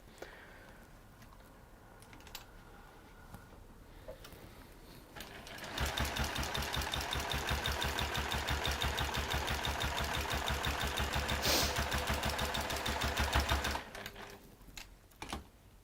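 Sewing machine stitching fabric in a workshop, a fast, even mechanical rattle that starts after a quiet stretch of handling, runs steadily for about eight seconds, then stops, with light handling clicks around it.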